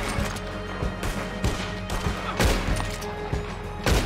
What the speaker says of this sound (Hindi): शॉट गन की मारी है उसके मुंह पे फिर भी नहीं मर रहा